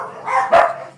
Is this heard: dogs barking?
yes